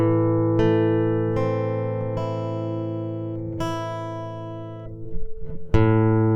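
A minor chord on acoustic guitar, struck once and then picked note by note, each string ringing out in turn with sustained decay before a final strum; close and clear, with no talking.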